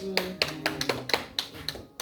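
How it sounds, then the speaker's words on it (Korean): A congregation at a church revival service claps, about eight sharp, evenly spaced hand claps in a steady rhythm over a faint background of voices and tones. "박수."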